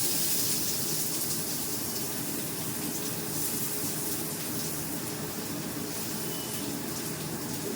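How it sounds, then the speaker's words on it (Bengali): Onions fry in hot oil spiced with bay leaf, giving a steady, even sizzle that runs unbroken at moderate volume and is heard alone. "এবার আমি পেঁয়াজটা ভেজে নিচ্ছি"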